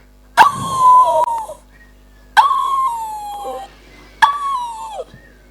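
A voice imitates a dog during a sermon in Subang, giving three drawn-out, howling barks spaced about two seconds apart. The calls are loud and close, each sliding downward in pitch, with quiet pauses between them.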